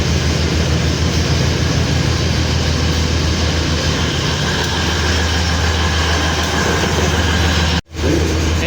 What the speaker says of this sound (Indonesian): kereta api Prameknya sudah ready di jalur 6.